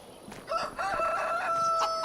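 A rooster in Farming Simulator 25 crows once, loud and close, its call rising and holding for about a second and a half.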